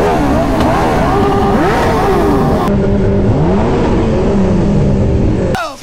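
A sport motorcycle, Kawasaki ZX6R or Ducati 959, rev bombing in Guwahati: loud, close engine howling through repeated rising and falling revs, with sharp throttle blips, continuous and unbroken.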